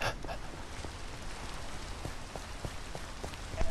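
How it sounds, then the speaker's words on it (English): Steady rainfall in the Minecraft video game, a dense hiss of drops on surfaces with faint scattered pattering, continuous and even throughout, with no talk over it. "And now it's raining."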